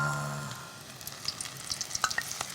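Vegetables deep-fry in oil heated to about 150 degrees, giving a quiet, continuous sizzle with scattered small pops and crackles, without any speech.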